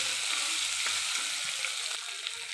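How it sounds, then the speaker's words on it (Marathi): Boiled potatoes sautéing with onion-garlic masala in a pan crackle and hiss steadily up close, with faint stirring scrapes and no talking. "बटाटे टाकून द्यायचे असे आणि मस्त असं परतून घ्यायचे"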